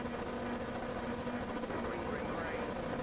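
Several F3 race car engines in a video game rev together on the starting grid at Zandvoort, a steady dense drone with a constant tone, while a commentator talks over it.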